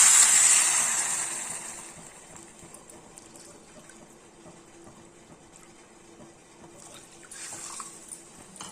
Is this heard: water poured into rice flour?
yes